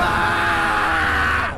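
A man screams loudly and continuously for over a second, alone and close, as part of a horror story narration.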